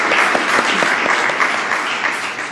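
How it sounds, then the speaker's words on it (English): Sustained audience applause at a recognition reception, dense clapping filling the room steadily throughout and fading slightly toward the end, with no talk over it. "So if everybody could give a round of applause for all these people here"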